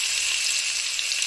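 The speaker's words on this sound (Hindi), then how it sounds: "अब इसके अंदर प्याज शामिल कर देंगे।" Onions hit hot oil that is already frying garam masala, setting off a bright, steady, even sizzle in a brief close burst with no voices.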